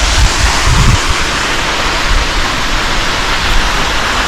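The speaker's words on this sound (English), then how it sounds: "But you guys are looking at a waterfall" Waterfall in the remote Scotts Gulf gorge, a loud, constant rushing roar of falling water that stays steady throughout, with no voices.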